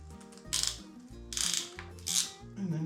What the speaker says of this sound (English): Alright, we'll crimp this guy.